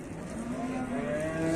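A cow lets out a long, low drawn-out moo at a livestock market in Afyon, Turkey, rising slightly in pitch, with steady crowd and market noise behind it.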